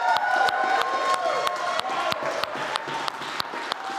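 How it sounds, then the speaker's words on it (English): A studio audience applauds and cheers, steady clapping filling the room with a few louder claps standing out. "Give yourselves a round of applause."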